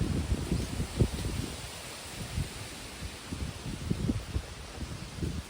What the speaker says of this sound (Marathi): आत्ता खरा वारा सुटलेला आहे पाहू शकता